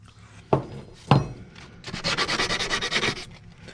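Sandpaper rubbed by hand over a surface, a few sharp scrapes followed by a steady run of close, rhythmic back-and-forth strokes, loud and alone.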